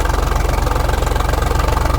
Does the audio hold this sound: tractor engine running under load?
yes